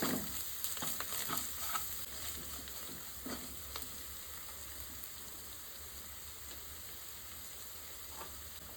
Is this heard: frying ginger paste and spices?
yes